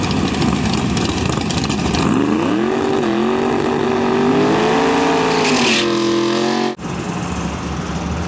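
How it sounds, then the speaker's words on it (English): A pair of 1968 Chevrolet Camaros roar loudly down a drag strip at an NHRA National Open in Portland, engines climbing through steady gear-like rising pitch sweeps before an abrupt shift, no talking over the sustained blare. "looks like we have a pair of 68 Camaros on the line. Let's watch them take it all the way down."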